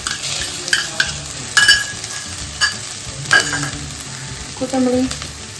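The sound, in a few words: frying ginger garlic paste with onions in pan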